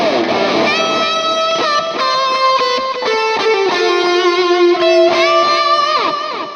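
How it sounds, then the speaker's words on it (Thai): Electric guitar playing a sustained solo line through delay and reverb from an M-VAVE Cube Baby multi-effects unit, with notes ringing out and overlapping echo tails, loud and continuous, with no voices. "สมมติเวลาเราโซโล่มีหางเสียงเนี่ยแล้วก็มีรีเวิร์บด้วยนะครับ"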